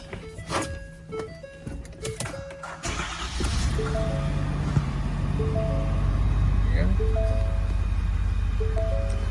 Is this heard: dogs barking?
no